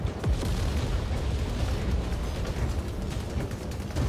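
A napalm blast erupts in the WR Frontiers mech game, a loud booming explosion followed by a sustained roaring, crackling rumble of fire, close and heavy with no talking.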